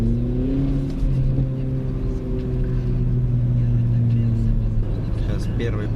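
A tuned Skoda Rapid on a test track, its engine droning steadily and close with low harmonic tones that rise slightly as it pulls away, over constant road and wind roar.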